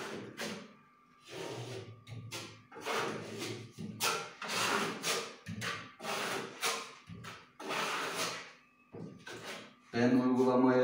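A steel trowel spreads a thin first coat of black marble-effect plaster over a wall in repeated scraping strokes, close and rhythmic, with brief pauses between passes.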